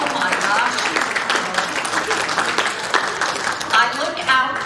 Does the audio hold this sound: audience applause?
yes